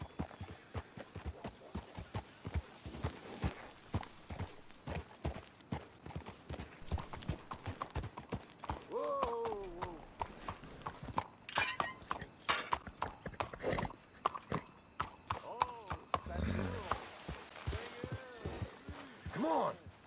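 Horse hooves clip-clop steadily on the ground in a Western video game set in Red Dead Redemption 2, with occasional snorting and a whinny among the footfalls.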